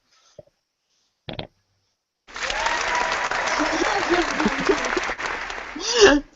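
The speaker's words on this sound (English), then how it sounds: "Jim, hit the applause button." A couple of brief clicks, then a canned burst of crowd applause swells and continues for a few seconds before cutting off.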